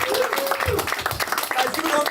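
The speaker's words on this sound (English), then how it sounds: "All right, folks, you guys ready to clap?" Comedy club audience clapping in a dense, steady wash of claps with some cheering voices mixed in, fairly loud and continuous throughout.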